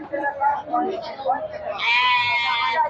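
Goats at a livestock market bleat loudly and steadily for about a second near the end, following a stretch of close speech.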